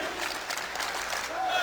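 Esports arena crowd at a CS:GO match on Mirage, cheering and applauding in a steady, dense wash of claps and shouts from a large audience, with a commentator's voice partly mixed in.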